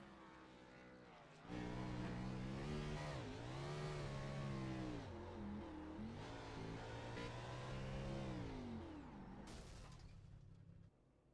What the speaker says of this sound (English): Watch Jason here do his burnouts